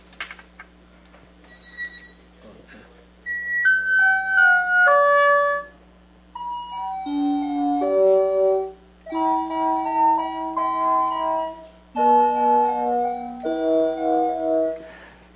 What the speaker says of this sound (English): And the next sound is electric piano.